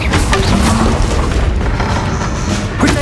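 A Confringo fire spell bursts in Hogwarts Legacy, a loud, dense explosive boom that fills the moment, followed by crackling debris and a second smaller pop near the end.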